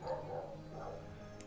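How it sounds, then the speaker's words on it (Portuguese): A dog named Pan barking, a short burst of yips and barks at the start, close by, then a quieter tail of background noise. "O Pan tá latindo pra caramba."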